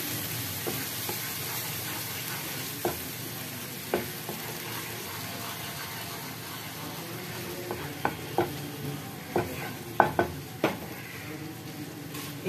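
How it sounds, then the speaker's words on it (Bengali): Paneer butter masala paste being stirred in a new frying pan over a lowered gas flame, a steady low sizzle with scattered scraping and clinking strokes that grow more frequent toward the end. "এবার গ্যাসের ফ্লেমটাকে একটু কম করে এটাকে ভালো করে নাড়াচাড়া করে নেব"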